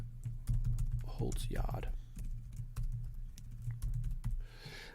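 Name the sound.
typing on a computer keyboard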